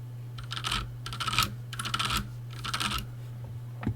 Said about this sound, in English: It's my mechanical keyboard.